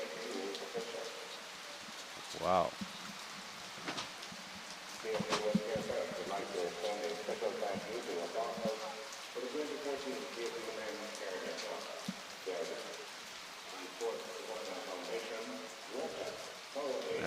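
Heavy rain patters steadily over a football match between Haiti and Martinique, a broad, even hiss running throughout beneath a commentator's voice and an occasional exclamation.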